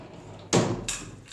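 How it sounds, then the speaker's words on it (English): A pocket door being pulled along its track during a home install, giving a loud close-range sliding rumble that ends in a sharp knock, then a second lighter knock just after. "Pull that door over here."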